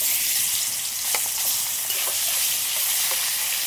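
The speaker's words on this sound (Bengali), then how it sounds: "এবার মাছগুলো সব ভেজে নেব।" Salted, turmeric-rubbed fish fries in hot oil, giving a loud, steady, close-up sizzle that hisses on without pause and with no voices.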